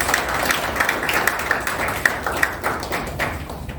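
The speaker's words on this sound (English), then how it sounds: "So please give both of them a big round of applause." Applause from a packed class audience at an investing seminar, moderate clapping with distinct individual claps standing out, fairly close and steady throughout.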